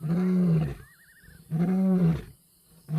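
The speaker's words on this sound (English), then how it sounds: "His roar is a powerful weapon." A wild male lion in the Timbavati bush roars in two long, deep, very loud rumbling bursts separated by a pause, close by, with a third beginning at the end.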